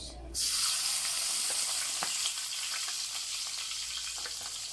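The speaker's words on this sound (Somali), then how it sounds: "meesha ku shubanay saliid, waxaan ku shubanaynaa basal" A large chopped onion frying in oil in a pan, a loud, steady, close sizzle that starts abruptly and carries on evenly with faint stirring clicks.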